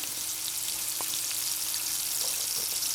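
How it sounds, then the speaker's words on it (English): Steady, dense sizzling of cauliflower frying in a hot pan, a continuous crackling hiss with faint pops, no voices. "you can hear the sizzle"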